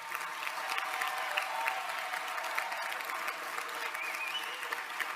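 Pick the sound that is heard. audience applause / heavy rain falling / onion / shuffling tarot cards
audience applause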